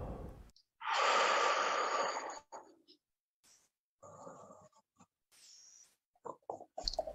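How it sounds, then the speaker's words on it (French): A long, deep breath is drawn during a relaxation exercise, a loud close breathy inhale, then softer breaths and small mouth noises with pauses between them. "Une respiration."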